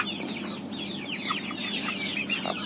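Native chickens on a Thai poultry farm give soft, steady clucks with a few brief higher calls, heard at a moderate distance over a low farmyard hum.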